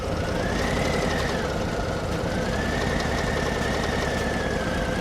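A learner's motorcycle in first gear, working the clutch and throttle and nearly stalling, makes a loud, close, continuous engine drone whose revs rise and sag unevenly.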